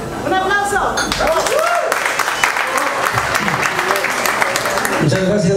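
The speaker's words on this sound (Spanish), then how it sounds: "¡Un aplauso!" Applause at a godparent celebration party, clapping mixed with cheering voices, loud and busy from start to finish, with some clinking in the background.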